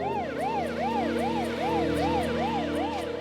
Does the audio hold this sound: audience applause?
no